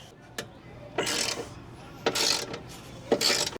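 A ratchet on a Torx 40 bolt on a Ford F350 truck, heard as three short bursts of rapid close clicking, separated by quiet gaps, with faint background noise.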